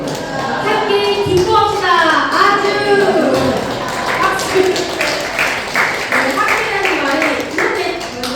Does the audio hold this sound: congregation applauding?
yes